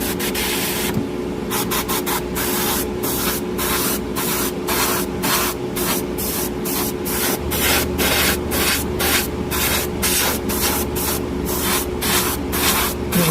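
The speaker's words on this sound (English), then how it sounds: "I've bumped the pressure up to about 25 psi because we're spraying primer" Close, loud airbrush spraying primer at about 25 psi through a 0.4 mm tip, a steady hiss broken by rapid repeated bursts as the trigger pulses on and off; no voices.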